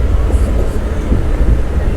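A Diva–Roha MEMU commuter train runs through heavy monsoon rain, a steady loud low rumble of wheels and carriage noise mixed with dense rain hiss, continuous and close throughout.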